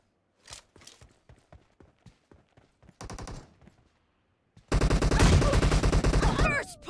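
PUBG Mobile gunfire in a team deathmatch: scattered single shots and footsteps, then a short rapid burst, and finally a loud sustained automatic volley close up.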